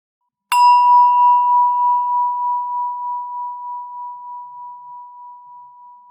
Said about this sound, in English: Every time you hear the bell, notice where your attention is.